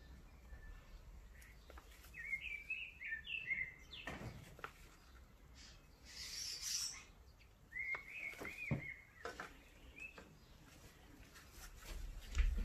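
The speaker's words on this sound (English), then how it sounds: "That was the little birds in my garden. I've got some starlings at the moment." Faint chirps from baby starlings in a garden, scattered short tweeting bursts over quiet outdoor background noise.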